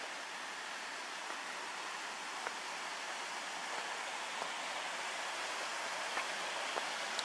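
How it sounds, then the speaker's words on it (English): Light rain patters as a steady, faint hiss over the forest near High Falls in Algonquin Park in October, with a few soft drops ticking through the even wash of sound and no voices. "It's also starting to rain a little bit."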